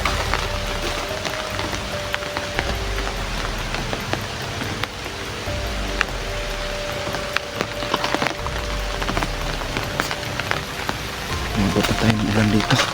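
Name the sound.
rain falling on surfaces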